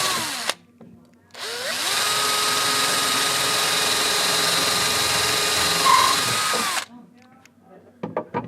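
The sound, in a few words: power drill running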